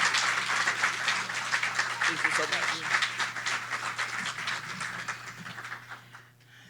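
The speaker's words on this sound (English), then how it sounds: "please give her a warm round of applause" Audience applause greets a woman taking the stage at an annual conference welcome address, a dense, steady clatter of many hands that fills the room, with her voice speaking over it before the clapping fades out near the end.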